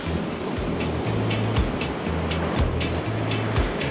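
Ocean waves at the seaside by Broadstairs, a steady washing roar of surf that rises and falls gently and holds at moderate loudness, with no one talking.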